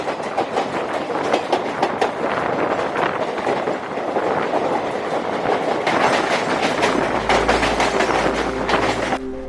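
A train headed for Chhatrapati Shivaji Maharaj Terminus in Mumbai rumbles loudly from on board with steady clickety-clack wheel beats over rails, rushing wind noise and a low rumble building near the end.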